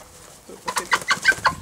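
A hen wandering a suburban garden clucks about five times in quick succession after a short quiet pause, close and clear.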